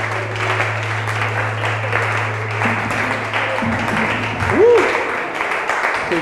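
A church congregation at a Sunday prophetic service applauds and cheers in a steady, dense wash of clapping and acclamations that carries on throughout, with a low hum underneath.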